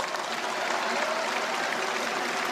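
An audience bursts into dense, continuous applause, a broad even wash of many hands clapping together without a break.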